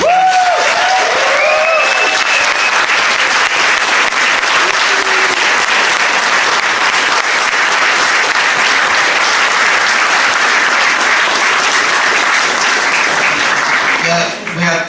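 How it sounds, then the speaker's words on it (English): A crowd at an ultramarathon awards ceremony gives a loud, sustained round of applause for the volunteers, thick continuous clapping with a few whistles and cheers early on, tapering slightly at the very end. "massive round of applause for them"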